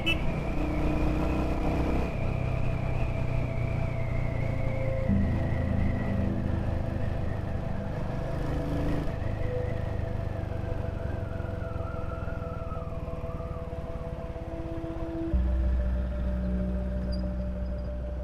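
An engine drones steadily during a night ride through city streets. Its exhaust note rumbles low and continuous with gradual pitch shifts as the speed changes. The sound stays close and moderately loud, with no speech.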